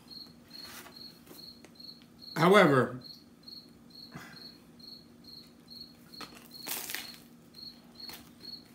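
Cricket chirping steadily in a quiet indoor setting, short evenly spaced high-pitched chirps repeating throughout, faint and close, with brief rustling and eating noises in between and a voice speaking briefly.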